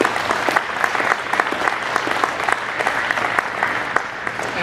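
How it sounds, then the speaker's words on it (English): A crowd at a Ford innovation showcase gives the competitors a round of applause, steady close clapping with sharp individual claps standing out, continuous from start to finish with no talking. "Round of applause for them,"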